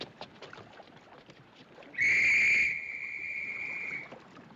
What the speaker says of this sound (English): That's an officer's whistle.